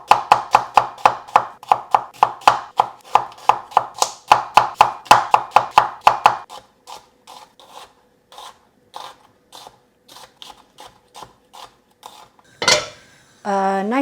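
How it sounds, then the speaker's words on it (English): A knife thinly slices three medium onions on a cutting board, with a fast run of crisp, evenly spaced chops that thins into slower, quieter cuts, then a few louder clatters at the end. "I'm going to start by thinly slicing 3 medium-sized onions."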